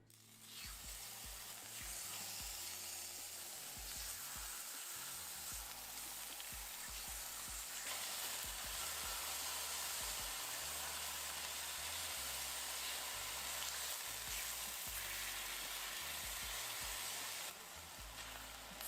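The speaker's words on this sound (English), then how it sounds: "we're gonna place it on our hot pan and we're gonna sear it on each side for 1 minute" Marinated beef searing in a hot oiled pan, a steady loud sizzle running throughout with broadband hiss and occasional crackles, close up and without any talking.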